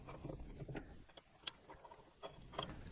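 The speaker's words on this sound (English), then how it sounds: "So just go around and tighten down all the M2 bolts." A small driver tightens M2 bolts on a HaloRC camera cage for a BMPCC4K, faint close clicks and light metallic ticks scattered irregularly over quiet room tone.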